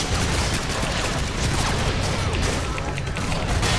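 Dense, continuous bursts of rapid gunfire in Call of Duty: Modern Warfare 2 fill the whole clip, loud and close, with crashing impacts layered over a constant mechanical din.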